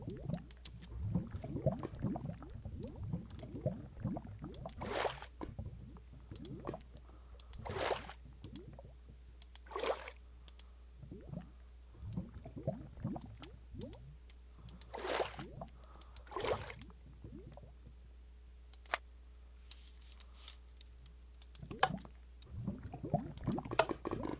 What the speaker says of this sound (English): I have to fill it with water also.